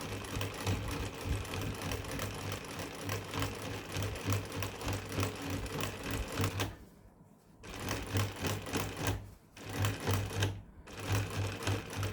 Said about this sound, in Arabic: وهركب بقى السوستة على القماش الاول وبعدين اثبت خياطة